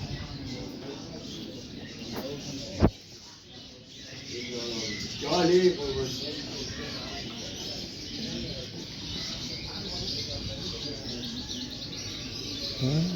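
Birds chirp and coo in a bird market inside the traditional Qazvin bazaar in Iran, scattered calls amid busy crowd murmur and footsteps, with one sharp knock early on.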